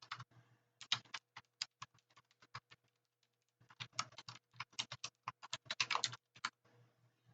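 Fingers type an email body on a computer keyboard, a close, quiet patter of key clicks in quick bursts with a short pause midway, and no talking.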